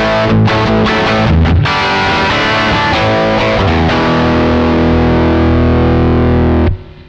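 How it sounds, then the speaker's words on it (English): Electric guitar played through a Tech 21 Sansamp FlyRig 5 pedal with the boost switched on, giving a loud, heavily distorted high-gain tone: quick chugging chords at first, then a long sustained ringing chord that cuts off near the end. "Now I've got the boost kicked on, which has added hopefully quite a bit more gain and a bit more output to it"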